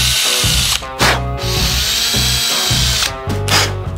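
A power tool cuts threads into a rusty part of a Puch Velux X30 moped, loud whirring bursts that start and stop several times, close by with no speech.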